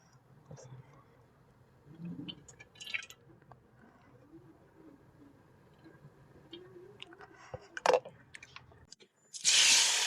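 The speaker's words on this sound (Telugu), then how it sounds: "ఇక కొంచెం అయితే ఆయిల్ అయితే వేసుకుందాం ఫస్ట్" Cooking oil is poured into a pan for a village-style small-fish curry: faint, scattered drips and trickles up close, then a louder hissing burst at the end.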